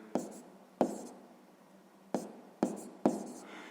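Pen strokes on paper while math steps are written out for a sixth-grade exercise: five sharp, close taps with short scratching trails, spaced irregularly over a quiet background, with no voice in between.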